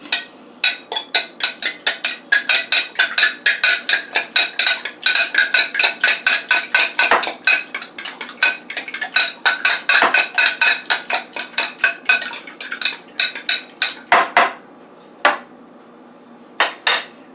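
Rapid, steady clinking of a utensil against a bowl as quiche ingredients with a few drops of mustard are whisked together, a fast metallic tapping rhythm with brief pauses near the end and no talking.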